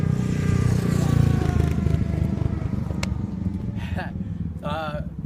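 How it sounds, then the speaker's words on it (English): Engine rumble of motorbikes passing close by, loud at first then fading, with a voice talking over it. "Motorbike people came by."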